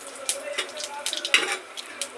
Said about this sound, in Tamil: எண்ணெய் நல்லா காஞ்சிச்சு, அது எண்ணெயில் தான் கடுகு கொஞ்சம் போட்டுப்போம், சீரகமும் கொஞ்சம் போட்டுப்போம்.